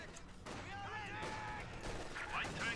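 A machine gun fires in Company of Heroes 2 battle, a muffled, rattling stream of shots with distant artillery-like thumps underneath. A commentator's voice runs over it throughout.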